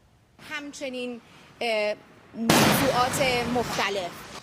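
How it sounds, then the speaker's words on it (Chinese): A sudden loud blast hits an Iranian state television studio during an Israeli bombing, with broadband noise continuing afterward as people shout over it; calm talk comes before the burst. "连续爆炸，一个物件自顶头落来声音"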